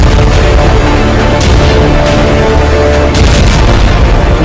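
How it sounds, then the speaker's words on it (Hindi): Booming blasts from Hezbollah rockets striking Haifa, Israel, heard as loud, dense rumbling impacts with sharp bursts around one and a half and three seconds, continuous heavy noise throughout and no speech. "हिजबुल्लाह के रॉकेट धमाके हाइफा में हाहाकार मचा रहे हैं।"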